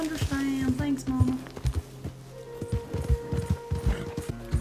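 Horse hooves clip-clop in an irregular trotting rhythm in the video game Red Dead Redemption 2, mixed with game music and a brief whinny, with people talking over it.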